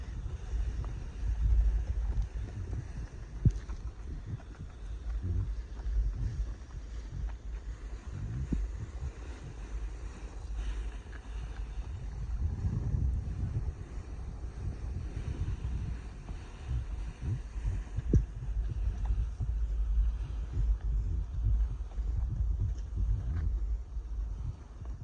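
Steady wind buffets the microphone outdoors near a boat, a continuous low rumbling roar that swells and eases with gusts for the whole stretch, with water faintly underneath and no voices.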